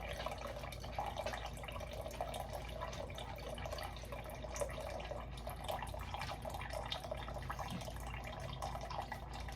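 Steady running tap water pours continuously into a measuring cup, a constant splashing hiss with no talking.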